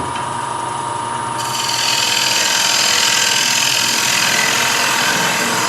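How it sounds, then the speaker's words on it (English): A lathe tool scrapes across a spinning wooden platter, a steady raspy scraping that starts thin, then thickens and grows louder after the first second and holds close up. "And I'm literally scraping."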